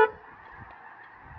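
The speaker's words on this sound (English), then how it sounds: "Honk the horn." A single brief horn honk at the very start, followed by quiet outdoor background.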